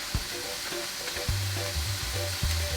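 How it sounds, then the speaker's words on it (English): Minced pork sizzles steadily in a hot pan during a Thai basil stir-fry, with a constant close hiss of frying broken by repeated soft knocks and scrapes of a utensil stirring the meat. "stir until pork mince cooked"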